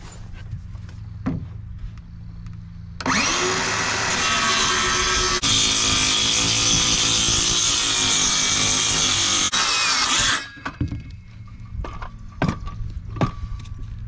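A power saw blade bites into and cuts through material in a workshop, a loud steady whine sustained for about seven seconds before cutting off, with quieter shop clatter and knocks before and after.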